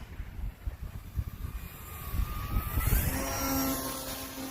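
An RC plane flying slowly on high throttle with flaps down on a windy day, a thin engine whine rising and holding over heavy wind buffeting on the microphone, no voices.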